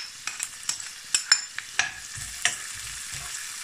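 Onion and garlic sauté in hot oil for pork binagoongan, making a sizzling bed broken by sharp clicks and scrapes of a spatula stirring against the pan at a close, fairly loud level.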